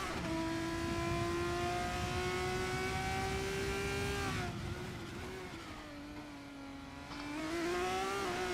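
Race car engine in a sim racing game at Interlagos, a steady high-pitched drone that holds, dips as the car lifts off and slows, then climbs again under acceleration.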